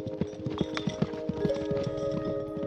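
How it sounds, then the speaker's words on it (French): A horse gallops fast in a straight line during equestrian vaulting, its hoofbeats thudding in a quick, steady rhythm at close range over a constant background hum. "Le fait que le cheval galope vite en ligne droite"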